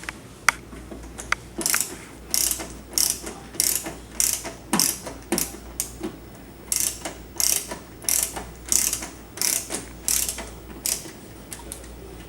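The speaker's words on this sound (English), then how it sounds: "there's 3 flathead screws on each side of this back gray channel. So I'll go ahead and remove them." A ratcheting screwdriver clicks in quick repeated bursts, roughly a dozen close, crisp sets, as flathead screws are backed out of the gray back channel of a CrafTap 2.0 beer tap tower.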